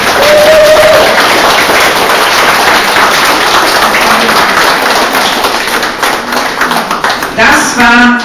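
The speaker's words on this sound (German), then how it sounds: "Nochmal einen ganz kräftigen Applaus." Strong applause from an audience at an art exhibition opening, loud dense clapping with scattered taps that thins toward the end, and some voices mixed in.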